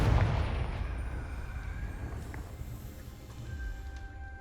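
Fiery blast from the Confringo spell in the Hogwarts Legacy video game, a deep booming burst at the start that rumbles and slowly fades over a few seconds, heard alone.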